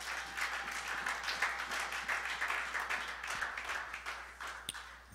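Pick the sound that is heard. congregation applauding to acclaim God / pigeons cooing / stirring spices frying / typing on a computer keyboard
congregation applauding to acclaim God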